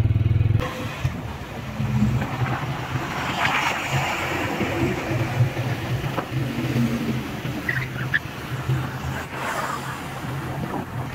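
Steady engine drone of a Bajaj Freedom 125 CNG motorcycle riding along on CNG, with wind rush and road noise throughout, no talking.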